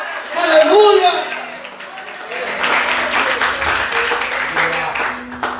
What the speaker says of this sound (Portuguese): Na presença dEle você pode aplaudir e exaltar esse Deus maravilhoso.